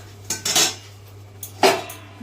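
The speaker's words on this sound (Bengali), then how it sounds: "চাপা দিয়ে দিলাম আঁচটা বাড়িয়ে দিলাম" A lid goes onto a pot of boiling potatoes with a few close metallic clanks and rattles, the main pair of knocks followed by a second sharp clatter, over a steady low hum.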